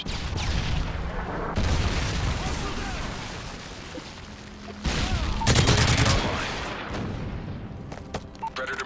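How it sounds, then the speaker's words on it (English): Predator missile strikes explode in a multiplayer shooter, heavy booms bursting loudly over a steady battle din, the biggest blast about midway. Game voice announcements and a talking player run through the clip. "Friendly Predator missile inbound"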